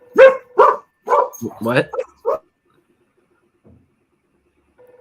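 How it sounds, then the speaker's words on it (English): Dogs bark indoors in a burst of about six sharp, close barks over the first two and a half seconds, then fall quiet; a voice speaks briefly. "Sorry, my dogs are freaking out."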